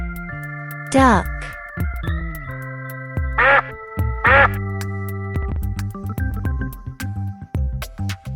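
A duck quacks loudly nearby, with one sharp quack and then a quick pair of raspy quacks set over light background music.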